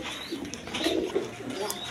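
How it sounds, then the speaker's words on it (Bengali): A breeding pair of Indian Kaldom pigeons coos in short, soft, throaty murmurs close by, with no talk over them. "এই পেয়ারটা রানিং পেয়ার, একদম ডিম বাচ্চা করানো কবুতর।"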